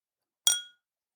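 Drinking glasses clink together once in a toast, a single bright ringing chink that decays quickly into silence.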